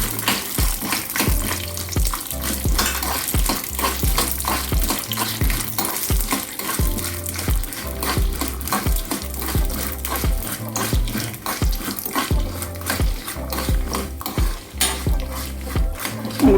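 Peanuts are added to a pan and stir-fried, with steady scraping and clinking of a spoon against the pan over a continuous sizzle, close and busy, with no talking.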